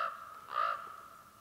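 A raven in timber gives one clear, hoarse caw from a moderate distance, over a faint steady tone in a quiet outdoor setting during a mule deer hunt.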